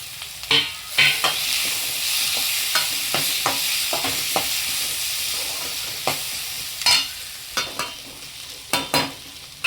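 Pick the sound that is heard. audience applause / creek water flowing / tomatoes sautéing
tomatoes sautéing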